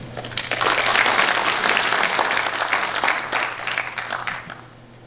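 An audience at a Rotary district training conference for club presidents and secretaries breaks into loud, dense applause that swells quickly, holds for several seconds, then tapers off near the end.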